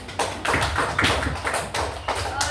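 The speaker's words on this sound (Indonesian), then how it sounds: "Kasih aplaus" A classroom of students claps together in a brief burst of applause, a quick, uneven patter of hands lasting a couple of seconds and fairly close.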